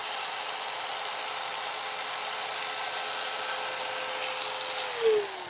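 Chainsaw carving a wooden bear, the engine holding a steady high-pitched whine throughout, then dipping in pitch with a brief louder surge near the end as the load changes.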